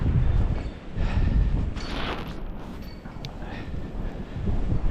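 Strong blizzard wind roaring and buffeting around snow-buried cars, a loud continuous rumbling rush with gusty surges close to the microphone.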